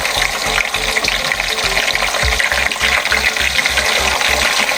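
Chicken pieces for Haitian fricassee fry in hot oil, a steady close sizzle with soft crackle and bubbling throughout, plus low rhythmic thumps beneath.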